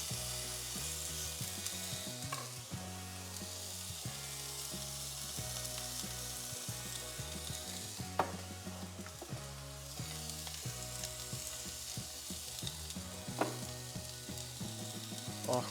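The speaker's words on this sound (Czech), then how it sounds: "Tak jo, steak si otočíme." A steak flipped in a pan with olive oil sizzles and fries loudly and steadily up close, with occasional clicks and scrapes of utensils against the pan, and no talking over it.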